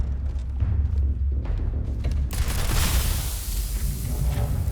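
Explosions and gunfire rumble through a battle in the video game Starfield, with deep booms and a sudden louder burst of blasts midway that keeps roaring until the end.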